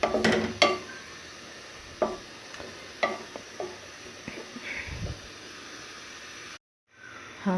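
Onions fry in oil in a pan with a soft sizzle and hiss, broken by several sharp clinks and scrapes of a stirring utensil; a brief silent gap comes near the end.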